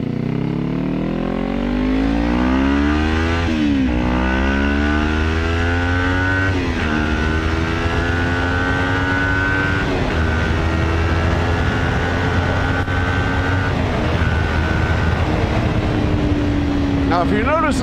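A Kawasaki Ninja 400 with upgraded heavy-duty clutch springs accelerates hard along a road, its engine note climbing steadily and dropping at each of several upshifts, loud and continuous throughout with wind noise.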